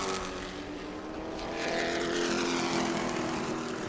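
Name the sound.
race car engine during late laps at New Smyrna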